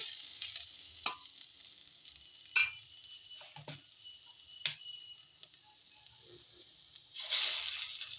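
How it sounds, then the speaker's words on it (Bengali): Onion frying in a pan for a bottle gourd peel dish, a faint steady sizzle broken by a few sharp utensil clicks and scrapes, with a louder sizzling swell near the end. "পেঁয়াজটাও প্রায় ভাজা ভাজা হয়ে গেছে"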